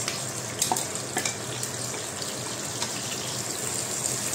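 Garlic and peppers frying in a small amount of oil, a steady close sizzle with a few light clinks of a utensil against the pan.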